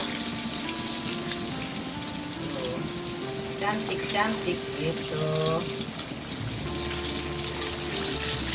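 Crispy fried chicken pieces cooking in oil over a low flame, a steady soft sizzle and bubbling running throughout under a voice speaking near the microphone.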